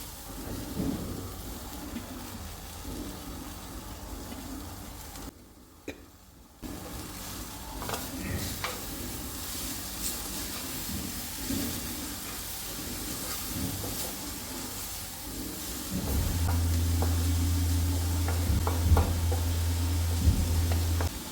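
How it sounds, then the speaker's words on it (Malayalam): Lentils and spinach for a Kerala thoran being stirred in a pan, a steady soft sizzle with scraping and clinking of the spoon, a brief quiet dip midway and louder stirring toward the end, no talk. "പരിപ്പിട്ട് നല്ലോണം ഇളക്കി യോജിപ്പിച്ചെടുക്കാം"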